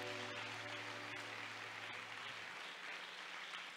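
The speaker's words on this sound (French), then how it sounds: "On ne paye pas pour applaudir." A steady wash of applause from a crowd, many hands clapping together at a constant level, faint and distant with a low hum underneath.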